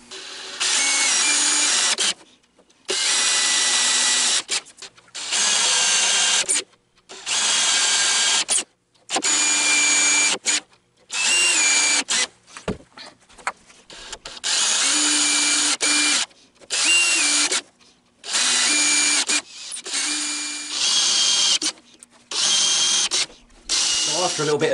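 A power drill boring into wood while making a woodturned Dr Who Dalek model: about a dozen loud, close bursts of a few seconds each, separated by short silent gaps, with no talk.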